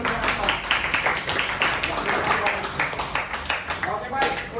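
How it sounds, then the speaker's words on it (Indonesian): A class of students claps for the first group presenting in a chemistry lesson, a steady round of applause lasting several seconds with voices mixed in. "Berikan tepuk tangan untuk yang pertama"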